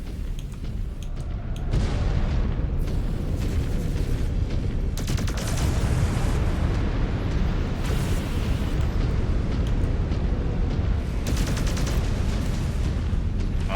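Heavy mech weapons fire in the Mechwarrior 5 Clans video game: dense, loud bursts of cannon and explosion blasts roll on almost without pause, with sharp booms standing out.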